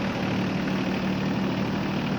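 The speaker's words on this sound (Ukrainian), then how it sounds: "Тільки ми вирівнюємо кермо і трактор знову їде" A used Iseki TK25 Japanese mini tractor engine of 25 horsepower runs steadily while the tractor drives, a continuous low rumbling drone close by.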